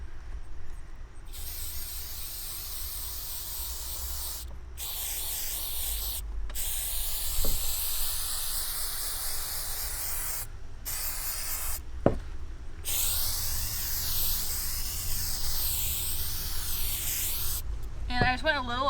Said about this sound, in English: So I'll just start spraying this.